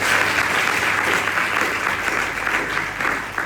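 A church congregation applauds, a dense sustained burst of clapping that fills the space evenly from start to finish, loud and close with no talk over it.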